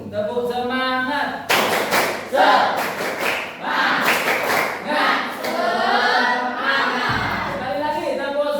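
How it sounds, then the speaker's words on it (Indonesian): Students in a school classroom at SMPN 1 Taman Krocok repeat the 'tepuk semangat' spirit clap, loud clustered hand claps in a set rhythm with chanting voices, preceded and followed by a teacher speaking. "Oke, satu lagi. Tepuk semangat."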